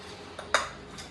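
A metal spoon clinks against a biryani pot while homemade masala is added for chicken biryani, a couple of small taps then one sharp ringing clink fading quickly, close and fairly quiet.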